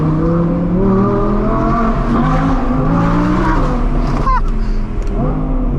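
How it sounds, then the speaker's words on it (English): An Audi R8 Performance with a straight-piped V10 drives in winter, its engine droning loud and close with rising revs and a sharp blip near the end, a voice talking over it. "It's like a straight pipe V10. You hear it, you know?"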